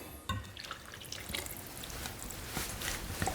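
Water mixture for pan pizza dough is poured into a bowl of dry ingredients, a faint irregular trickling and dripping with small splashes, quiet and close with no talking.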